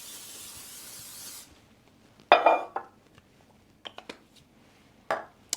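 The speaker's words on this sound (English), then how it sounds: "So we'll give our muffin tin a spray with some pan spray here." Cooking spray hisses onto a metal muffin tin in one steady burst, followed by the clatter and knock of the tin being handled on a kitchen counter.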